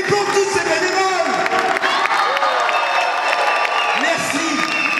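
A big crowd at a Provins Christmas live nativity claps and cheers for the volunteers, with whoops and shouting voices over a steady wash of applause.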